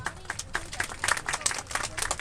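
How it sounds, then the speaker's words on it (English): Scattered audience applause at a sheepdog herding demonstration on a farm near Brisbane, Australia, with a steady patter of individual claps at moderate volume and some talking mixed in. "Give her a round of applause, everyone."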